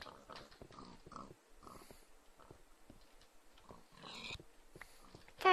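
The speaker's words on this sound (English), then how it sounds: "There's some pigs for you to shoot." Many pigs spawned together in Minecraft, blocky game pigs giving short repeated grunts and snorts scattered through, with a louder sharp burst at the very end.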